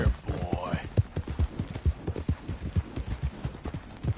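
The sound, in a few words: horse hooves clip-clopping after rider urges it on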